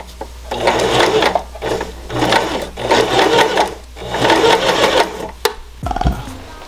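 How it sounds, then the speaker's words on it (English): A sewing machine stitching a seam while a hoodie is converted into a zip-up, its motor whirring loudly in three long runs with short stops between them, close by and with no speech. "I'm gonna just take it straight to the sewing machine"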